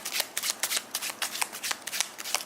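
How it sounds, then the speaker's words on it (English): A deck of playing cards is shuffled during a Spelling B card trick, giving a rapid, close run of crisp riffling bursts with no talk. "you immediately want to keep shuffling a little bit more"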